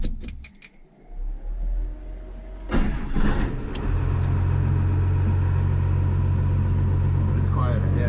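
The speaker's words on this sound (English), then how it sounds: "we're going to toss both seats in it and go for a ride and see how much quieter and more comfortable the OG Ram truck can be" An old Ram truck starts up and settles into a steady low engine rumble, with keys jangling and a door thud at the start, heard from inside the cab while people talk.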